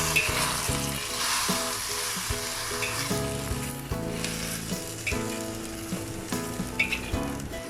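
Cabbage and tempeh being stir-fried with fermented bean curd over high heat, a loud steady sizzle and crackle with the clink and scrape of a utensil tossing the vegetables.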